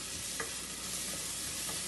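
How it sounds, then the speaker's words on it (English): The white parts of green onions, or scallions, are stir-fried in a pan for lobster fried rice, giving a brief, dense, close-up sizzle with a couple of soft stirring scrapes. "So I'm gonna go in and put my green onions."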